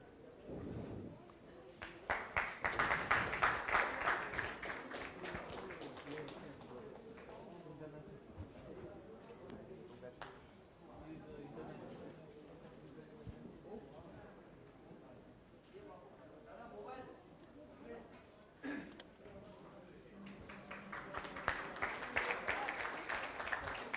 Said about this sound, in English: Let's welcome the team owners here with a round of applause,